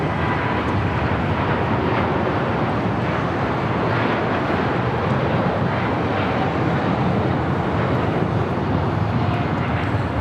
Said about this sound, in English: This is Air Premia 102 taking off to Seoul on a 787-9 Dreamliner.